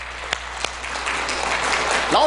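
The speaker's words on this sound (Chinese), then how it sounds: "掌声鼓励。" Applause at a church gathering: a few separate claps swell into sustained clapping from the congregation, with a voice rising briefly at the end.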